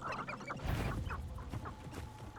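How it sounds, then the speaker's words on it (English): Chickens cluck softly in the Forbidden Forest of the video game Hogwarts Legacy, with short, repeated bird calls scattered over a low ambient game background. "Hello, chickens."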